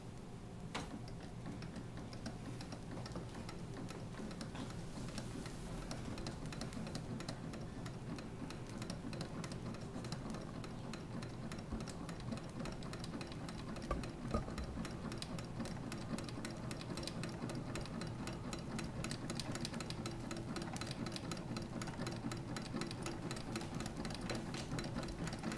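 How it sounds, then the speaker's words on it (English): Old alcohol-fuelled Stirling engine driving a gramophone through a clutch, a steady fast ticking mechanical rhythm with a faint running hum, even and unbroken throughout, no voices. "When the motor gets up to speed, it's possible to start the turntable by engaging a clutch"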